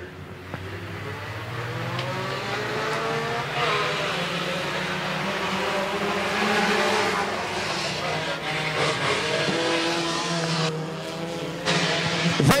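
Front-wheel-drive race cars in a heat race at Crossville Speedway, engines roaring continuously as they pass, with rising and falling revs and steady loud track noise throughout.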